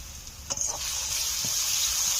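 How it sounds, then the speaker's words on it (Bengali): A splash of water hits Kashmiri red chilli powder and other ground spices frying in a pan, setting off a sudden, close hiss of sizzling that swells and then holds steady. "কাশ্মীরি লাল লঙ্কা গুঁড়ো, সব গুঁড়ো মশলা দিয়েছি। এখন দিয়ে দিচ্ছি একটু জল"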